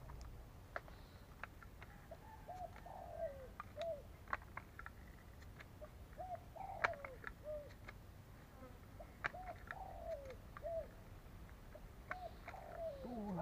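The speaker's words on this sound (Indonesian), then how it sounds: "Oh, ini ada burung datang." A wild bird arrives at a hunting ground and calls repeatedly, giving short, clear chirping notes in irregular bursts over a steady outdoor hiss, moderately close and with no talking.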